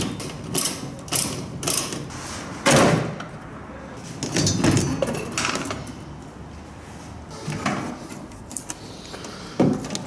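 Car tail lights being pried out, with plastic clips clicking and housings knocking and scraping in irregular bursts, close by, with no talk.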